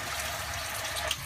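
A spoon is rinsed under a running kitchen tap, giving a steady close hiss of flowing water with a faint clink near the end.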